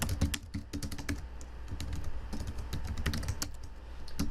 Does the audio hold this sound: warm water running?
no